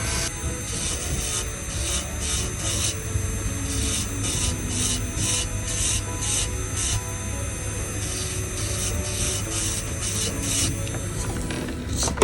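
An electric nail file runs steadily through a Russian manicure, cleaning the nail plate. It makes a continuous close buzzing whir with repeated brief pulses of rasping contact as the bit touches the nail.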